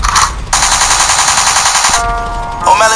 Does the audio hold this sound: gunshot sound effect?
yes